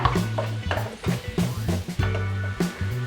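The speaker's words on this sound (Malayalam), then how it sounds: "ആവശ്യത്തിനുള്ള ഉപ്പ് ചേർത്ത് കൊടുക്കാം നന്നായിട്ട് ഇളക്കി യോജിപ്പിക്കാം" A spoon stirs a tomato and onion mixture with salt in a pan, giving repeated scraping and clinking strokes in an uneven rhythm, close and fairly loud, with no talking.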